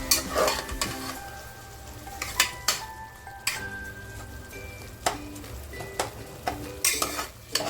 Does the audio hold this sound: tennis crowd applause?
no